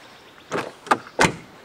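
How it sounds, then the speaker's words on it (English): Three quick mechanical clunks in a row as the door locks of a Mercedes 500E W124 actuate, close and distinct with brief pauses between them. "Door locks work fine."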